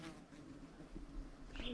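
Bees swarm along a sandy beach path on Manjack Cay in the Abacos, Bahamas, giving a steady, close, continuous buzzing drone at low volume throughout.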